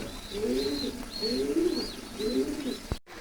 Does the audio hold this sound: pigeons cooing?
yes